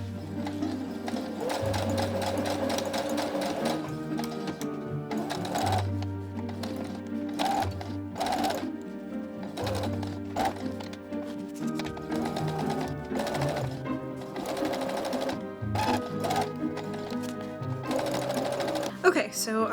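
A sewing machine stitches duck canvas corset pieces, its motor whirring in bursts that start and stop repeatedly, loud and close throughout.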